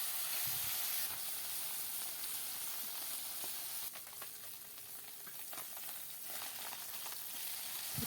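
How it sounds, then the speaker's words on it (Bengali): Puti fish crisp up in hot oil with a dense, steady sizzle and hiss up close, punctuated by occasional stirring clatters, with no voices. "পুঁটি মাছগুলো কড়া করে ভেজে নেব।"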